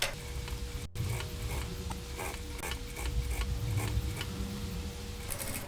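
Domestic sewing machine stitching piping onto fabric for a small zipped box pouch, a steady rapid ticking run with a brief stop near the start, close and fairly quiet.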